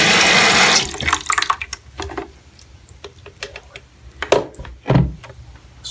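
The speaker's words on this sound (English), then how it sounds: "I'll take the ultrasonic and put some water in it first" Water pouring from a sink tap into an ultrasonic cleaner tank, a loud steady rush for about a second, then scattered splashes, clinks and handling knocks close by.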